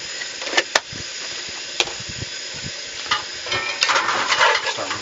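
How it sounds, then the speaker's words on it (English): Meat browning in a pan with soy sauce and crushed deep-fried jalapenos for larb, a close, hissing sizzle punctuated by sharp stirring clacks that builds louder toward the end, with no talking. "Starting to get a little bit of sizzle going on here."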